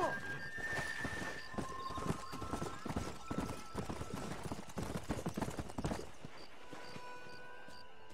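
Horse galloping in the video game Red Dead Redemption, rapid rhythmic hoofbeats throughout with a neigh, while people talk and shout over it.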